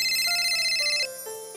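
A phone ringtone plays in a home drama scene, a bright electronic melody of short repeating tones stepping through a few pitches, clear and unaccompanied, dropping slightly in level partway through.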